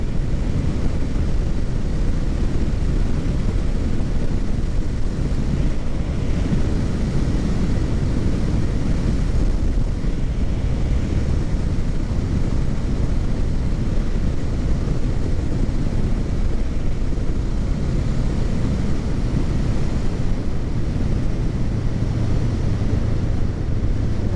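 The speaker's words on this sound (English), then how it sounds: "it's a little breezy today. Hopefully you can hear me over the wind." Steady, loud wind buffeting the microphone while riding a 2023 Honda Rebel 500 SE motorcycle on a breezy day, a constant low roar with no break for the full length.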